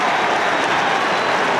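A big crowd at an All-Ireland club hurling semi-final, Portumna against Ballyhale Shamrocks, roars in a steady sustained cheer and applause after a score, broad and continuous with no pauses.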